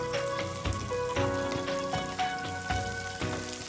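Onions and cumin fry in a pan with a crackling sizzle and pops, heard under sustained music tones.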